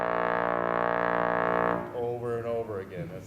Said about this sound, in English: the bass trombone long tones sound like this